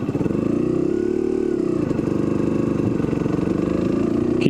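Kawasaki KDX250 two-stroke dirt bike engine lugging at low revs, a steady, loud, close-up throbbing drone holding for several seconds with no talk.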